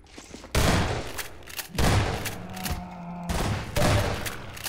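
Loud, booming shotgun blasts sound at irregular intervals as the player fights zombies in Half-Life 2: Episode 1, about four shots in a few seconds.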